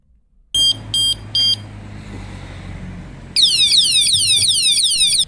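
Three short electronic beeps, a pause with low engine rumble, then a loud continuous warbling siren wail from a nearby motorcycle anti-theft alarm.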